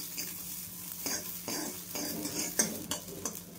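Gopal kala prasad dry-roasted and stirred in a pan, rhythmic scraping strokes of a spoon against the pan roughly every half second, close and steady, with light clinks and no voices.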